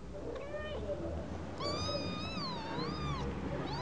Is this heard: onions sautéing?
no